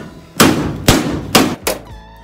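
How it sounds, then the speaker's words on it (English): Hammer blows on suspension parts being removed from an abandoned, damaged 1970 Challenger on a rotisserie: four sharp, loud metallic strikes spaced about half a second apart, close by, with no talking. "Let's try a harder hammer here."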